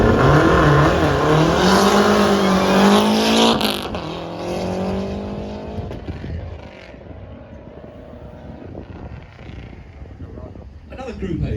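A Lancia Delta Integrale Group A rally car runs down a hill, its engine loud and revving with rising and falling pitch, then fading into the distance while someone talks over it.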